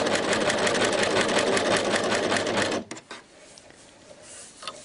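An overlock sewing machine stitches an edge finish with knitting yarn, running in a fast, steady, loud mechanical whir for nearly three seconds before stopping abruptly, followed by faint handling noises.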